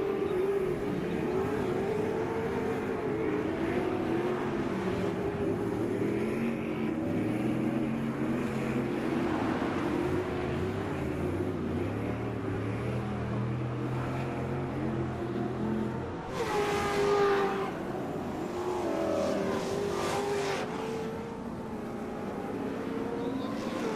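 An off-road race truck engine roars through a TORC Sportsman race at Crandon, a steady loud drone with pitch swells as the truck is thrown sideways, then a fresh burst of revving from another pass.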